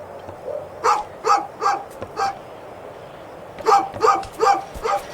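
A dog barks in the video game A Juggler's Tale, a run of five sharp barks followed by a pause and then four more, fairly close and loud over a quiet background.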